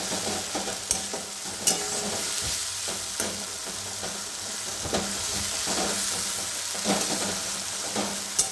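Ginger, tomato and green chili paste frying in oil, with a steady close sizzle and repeated scraping stirs throughout.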